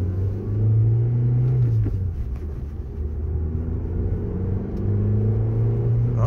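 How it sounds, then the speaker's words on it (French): A four-cylinder car engine idling on ordinary unleaded petrol, running smoothly without misfires, a close, steady low rumble with slight rises in revs and no talk. "elle tourne sur ses 4 cylindres."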